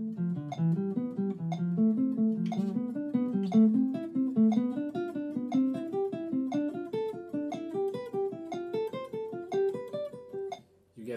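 Jazz guitar climbs a scale in groupings of five notes, each group accented on its first note, in a steady even stream of single picked notes played alone.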